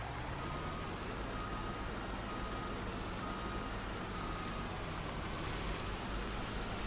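Steady, even rain hiss falls across a Farming Simulator 19 farm on the Sussex Farm map, a continuous close patter with no talk.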